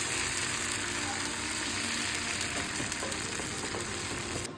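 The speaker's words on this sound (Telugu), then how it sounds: "ఇప్పుడు చీజ్ దోశ వేస్తున్నానండి" Cheese dosa batter sizzling steadily on a hot pan, a continuous close frying hiss with small crackles and no talk.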